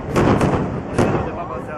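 Fireworks at the Kumano fireworks festival boom in a few quick, loud reports with rumbling echoes, heard from a distance outdoors.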